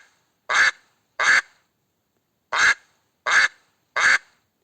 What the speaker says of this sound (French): Canard